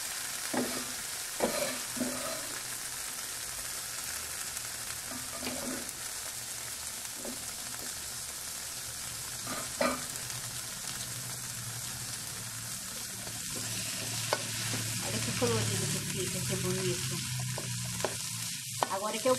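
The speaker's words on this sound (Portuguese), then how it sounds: "Agora que eu vou dar uma fritada em tudo isso aqui, dar uma boa murchada" Bell peppers for baião de dois fry in a hot pan with a steady, bright sizzle, interrupted now and then by spoon scrapes and stirring knocks, continuous and close throughout.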